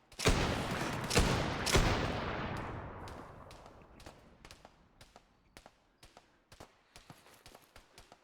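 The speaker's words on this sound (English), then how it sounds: "The fuck is shooting at us from there?" Gunfire in a heavily modded tactical shooter video game: a loud close burst of rapid shots, then a long string of sparse single cracks at a steady pace, fading and echoing farther off.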